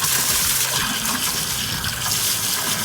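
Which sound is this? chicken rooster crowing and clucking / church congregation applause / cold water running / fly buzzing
cold water running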